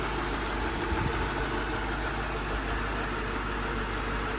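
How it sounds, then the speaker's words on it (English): A car engine idles steadily after a cold start, a continuous low hum with a faint mechanical vibration that stays even and close throughout, no voices present. "The engine sounds and runs like it's brand new."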